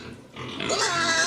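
A pig grunts and squeals in a short, rough burst that grows louder partway through, heard close and without talk.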